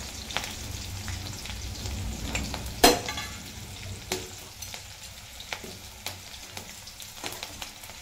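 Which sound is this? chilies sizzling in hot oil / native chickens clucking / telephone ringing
chilies sizzling in hot oil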